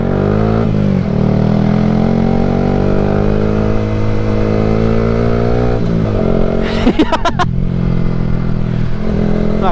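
A Yamaha R15 sport motorcycle labours on a rough off-road trail on the Kaybiang–Tagaytay loop, its engine droning loudly and steadily close by, with revs shifting and a brief burst of rattling clatter near the end.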